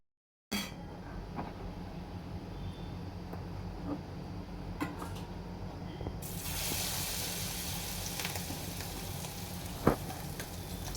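Food frying in hot oil in a home kitchen, a steady crackling sizzle that swells louder partway through, with occasional small clinks and pops and no talking.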